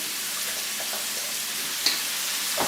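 Tofu sautés in olive oil in a pan, giving a steady, even hiss of frying with a couple of faint clicks from a utensil, no voices.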